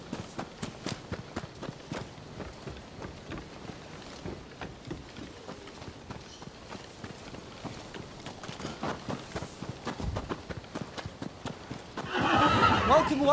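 Horses clip-clop along in a steady rhythm of hoof beats in the video game Rise of the Ronin, with a horse whinnying partway through and a brief louder burst near the end.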